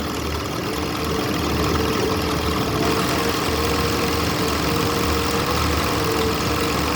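A Kansai PX302-4W picot sewing machine stitching, producing a continuous, even mechanical hum and whir with a low motor drone, steady and close throughout with no talk.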